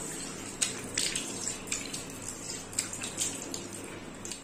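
Water runs steadily from a tap as hands are washed, a continuous splashing wash with brief louder spatters throughout, no voices.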